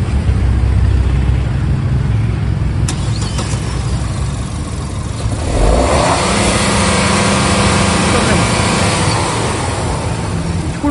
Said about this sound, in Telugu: దాని ఇంజన్ నాయిస్ నా ఇంజన్ సేమ్ TGDA ఇంజన్